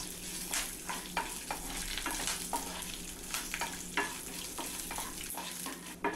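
Gram dal, urad dal, red chili and curry leaves are sautéed in oil, giving a soft continuous sizzle broken by a steady rhythm of spoon scrapes against the pan.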